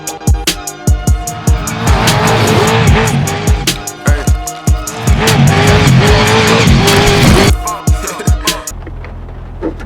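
A 1,000 horsepower all-wheel drive trophy truck races by on a desert test run in San Felipe, a loud, close engine roar with tire noise, repeated revving surges and shifts, cutting off sharply near the end.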